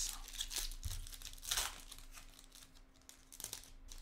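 A 2023 Bowman baseball card pack wrapper is torn open and crinkled in a few brief, soft bursts of crackling plastic, close by but quiet, with short pauses between handlings.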